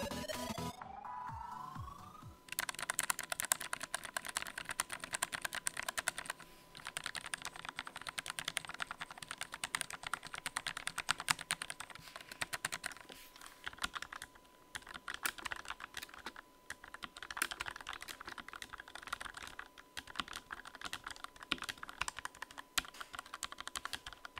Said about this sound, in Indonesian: Jadi gue akan masukin suara di beberapa bagian yang masih menggunakan switch bawaan, yaitu red switch.